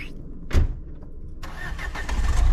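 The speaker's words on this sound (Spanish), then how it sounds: "Aquí el coche oficial de la expedición en pleno funcionamiento." A car engine starts with a sharp burst, then settles into a steady running rumble that builds slightly louder, close by and alone.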